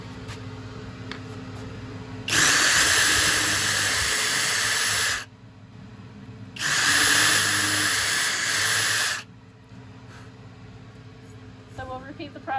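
Power drill driving screws into wood while building a display shelf for an ancient Greek dagger, two loud whirring bursts of a few seconds each separated by a quiet pause, with voices talking softly between and after them.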